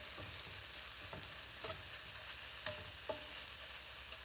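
Chipotle pineapple sauce being stirred after a seasoning of salt and pepper, with a few soft scrapes and clicks against the pan over a faint sizzle, close and quiet.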